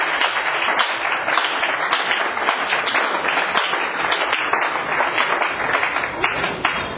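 Congregation applauding loudly in a church service, a dense, steady wash of many hands clapping that fills the space for several seconds without let-up.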